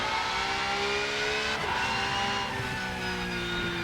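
A Bentley race car in RennSport holds a steady, high-pitched engine note with shifting harmonics, and its pitch dips and recovers as the car runs over the curbs, loud and close.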